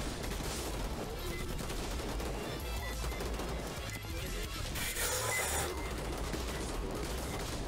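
Rapid video game gunfire from the shooter VLADiK BRUTAL rattles on in dense bursts and crackling shots, loud and continuous, mixed with game music and action noise.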